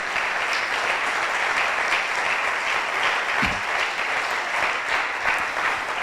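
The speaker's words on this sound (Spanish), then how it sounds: "¿Cuántos le dan un aplauso al Señor?" A church congregation claps together in steady, sustained applause filling the room, moderately loud and continuous throughout.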